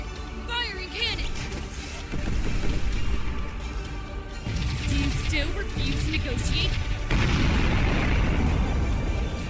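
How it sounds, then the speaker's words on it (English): Cannon fire in the space-combat game Sunrider: Mask of Arcadius, heavy booms and bursts mixed with game music and sound effects, loud and dense, with a voice talking over it. "Firing cannon!"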